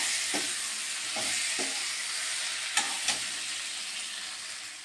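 Potatoes sautéing in a pan for bitter gourd chorchori, a constant close hissing sizzle with several soft scraping stir strokes rising briefly above it.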